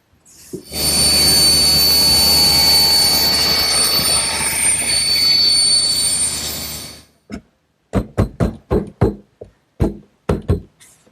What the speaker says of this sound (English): I've set up my table saw to make all the bevel cuts with the blade also tilted at 5 degrees